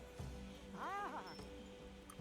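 A cat in a video game gives a single rising and falling meow, clear and mid-distance, over a low background hum with faint clinks.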